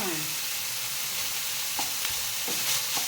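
Minced pork and curry paste sizzle loudly in a hot pan, a steady bright frying hiss with a few scraping stirs of a utensil mixing it through, close and continuous.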